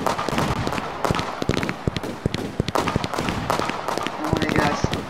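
Fireworks in a New Year's video game burst in rapid crackling pops and booms, dense and continuous over game sounds, with a person's excited voice mixed in.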